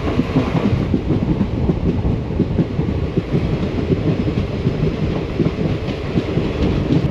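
The Mysuru–Talaguppa Intercity Express rolls along with a dense, continuous rumble and rapid rhythmic rattling, loud and steady throughout with no voices.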